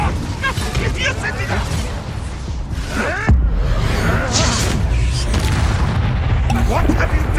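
An Incendio fire spell bursts loudly in Hogwarts Legacy amid continuous booming, whooshing combat effects and game music, with voices talking over the dense, roaring mix.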